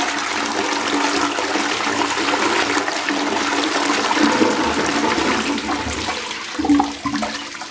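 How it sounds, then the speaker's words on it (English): An Armitage Shanks Sandringham toilet flushes, a steady rushing of water in a small room that swells near the end and then gurgles as it drains. "Good toilet, good flush, saves water."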